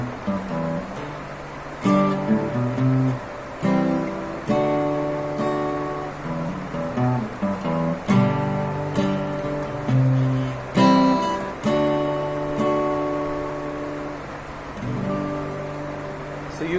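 A guitar slowly plays an open-string lick, plucked notes ringing out one by one with gaps, clear and close with no one talking.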